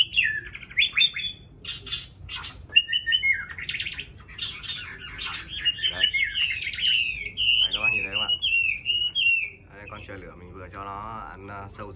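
A pet hwamei songbird sings loudly and close, bright warbling phrases and sharp whistled notes running almost continuously, with a few quieter pauses near the end.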